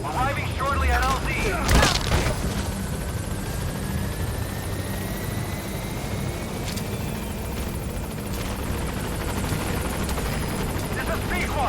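A helicopter arrives at a landing zone in Metal Gear Solid V: The Phantom Pain, its steady, loud rotor and engine roar filling the whole stretch beneath a speaking voice.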